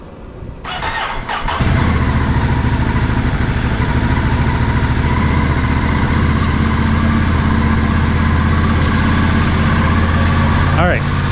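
A Ducati Monster 937 with its stock exhaust starts and settles into a loud, steady idle close by, with a brief squeal at the start and a chirp near the end.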